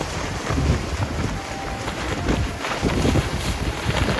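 Strong wind buffets an open-top off-road vehicle driving along a beach on a barrier island, a steady loud roar of gusting air with no voices.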